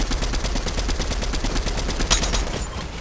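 Sustained rapid automatic gunfire in a shooter video game, a loud, steady stream of evenly spaced shots running throughout without pause.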